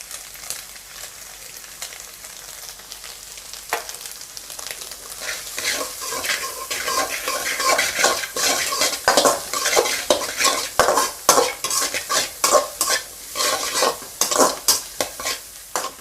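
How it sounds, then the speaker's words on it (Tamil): Onions sautéing in a frying pan for egg pepper rice, a steady close sizzle overlaid by repeated scraping stirs of a spoon against the pan that grow louder and more rhythmic toward the end. "வெங்காயம் நல்லா வதக்கிக்கலாம்."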